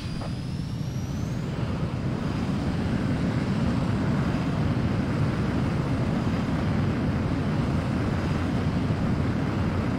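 A jet fighter takes off in Ace Combat 04, a loud steady engine roar that fills the whole stretch, with a rising whine at the start and no talking.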